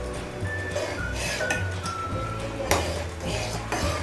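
Spoon scraping and clinking against a pot while varai (barnyard millet) kheer is stirred, a steady run of close metallic clinks and scrapes over a low continuous background hum.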